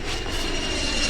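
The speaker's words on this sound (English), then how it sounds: "That was an airplane." An airplane flies overhead outdoors, a steady, fairly loud broadband roar holding evenly for about a second, with a thin high insect-like whine from cicadas running through it.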